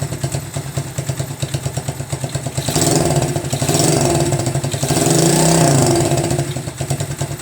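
Motorcycle engine in neutral, revving lightly at about five percent throttle, a steady close mechanical rumble with a slight clatter that swells in two gentle rises and falls, no talk.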